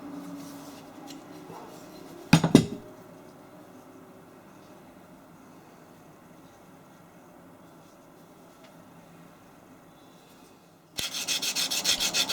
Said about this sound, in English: rub it all down. I'm using quite a coarse grit.